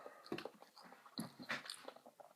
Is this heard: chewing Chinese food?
yes